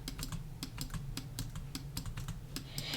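Shift key on a computer keyboard clicked rapidly and repeatedly while practicing speed bridging in a game, giving a quick, steady stream of crisp close-up key taps.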